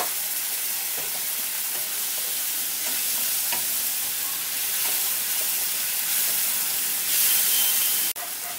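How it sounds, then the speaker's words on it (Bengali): Masala spice paste is stirred in a pan with a little water for a Bengali sweet pumpkin curry, giving a steady close sizzle and hiss with soft scraping strokes throughout and a brief louder burst near the end. "মশলাটা আমি নাড়ছি।"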